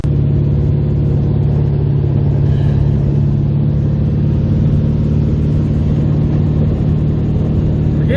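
A Volkswagen engine fitted with a small carburetor running while the car drives, a loud, steady, close engine drone and rumble that holds even throughout without speech.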